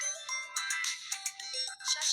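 A mobile phone ringtone plays in a bright, repeating melodic pattern of short chiming notes, fairly faint and clear with no talking over it.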